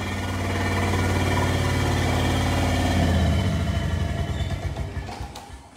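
A 1957 Holder A10 diesel tractor engine runs close and loud with a steady throbbing idle, then winds down and sputters toward stopping near the end.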